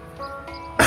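A single throat-clearing cough bursts out loud and close at the end, after a quiet stretch with a faint steady hum.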